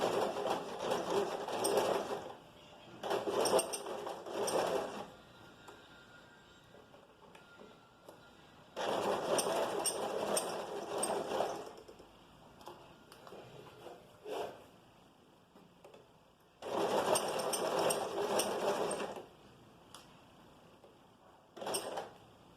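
A sewing machine stitches fabric for a vest in bursts of rapid, steady whirring, four main runs of a few seconds each with shorter spurts and quiet handling of the cloth between, close and clear.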